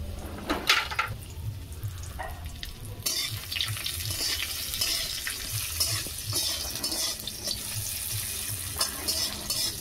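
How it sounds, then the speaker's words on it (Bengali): Cashews and raisins fry in hot oil in a pan, giving a steady, close hiss broken by brief crackles and stirring scrapes, with no talking. "কাজু আর কিশমিশ ভেজে নেবো। কিশমিশ দিয়ে দেবো।"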